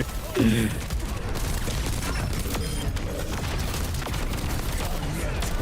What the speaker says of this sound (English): I'm literally shooting at nothing